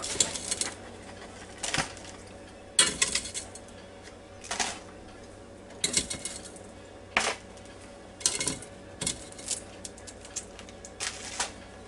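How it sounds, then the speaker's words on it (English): A fork clinks and scrapes against a plate while cutting into air-fried fish from a Ninja Foodi, giving a series of sharp, close metallic taps spaced irregularly over a quiet background. "I'm going to cut into a piece of it with this fork"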